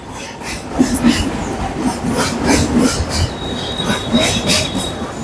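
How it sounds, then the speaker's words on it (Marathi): A train rolls past in Mumbai, its wheels rumbling and clattering steadily on the rails with metallic squeals and a high whine, loud and close throughout. "ट्रेन बघा मित्रांनो ट्रेन"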